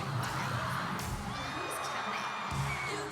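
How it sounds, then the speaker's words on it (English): The crowd at a senior elite cheerleading competition cheers and whoops during a routine, with scattered shouts over a loud, constant arena roar and music, and a commentator's voice on top. "listen to the crowd."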